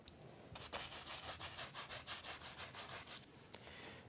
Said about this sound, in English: Scrub it in and blend it.